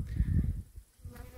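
A low buzz of honeybees being fed syrup for winter hums close by for a moment, rising and fading unevenly.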